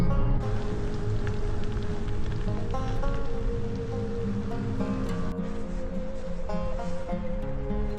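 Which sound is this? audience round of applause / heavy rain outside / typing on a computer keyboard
heavy rain outside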